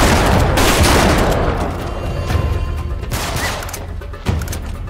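Dense, loud gunfire in a desert battle in Uncharted 3: Drake's Deception Remastered, with continuous overlapping shots and booms that form a thick, sustained roar and end with a sharper single crack.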